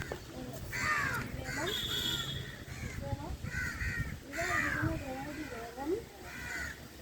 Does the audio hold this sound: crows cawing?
yes